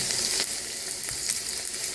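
Eggplant (aubergine) pieces fry in a pan with a loud, close, continuous hissing sizzle, broken by a few brief crackles and pops, and no voices.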